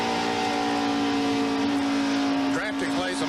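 NASCAR stock cars race at Michigan during the 1989 Miller High Life 400, a sustained, loud engine drone with a shifting pitch as cars pass, while a commentator talks over it.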